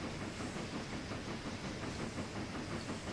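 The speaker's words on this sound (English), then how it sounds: "Passenger train is going through and heading towards the station, and there's our freight train pulling in the background." A freight train pulls slowly into a rail yard siding while a passenger train passes, giving a steady, faint rumble and hiss with soft rhythmic clatter throughout, distant and unbroken, with no voices.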